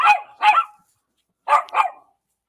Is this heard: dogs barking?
yes